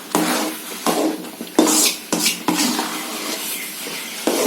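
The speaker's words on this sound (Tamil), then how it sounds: "கொஞ்சம் எண்ணெய் ஊற்றி கிளறணும்." Kesari sweet is stirred in a pan with oil, a spoon knocking and scraping against the metal in irregular, sharp strokes over a soft sizzle, close and without talk.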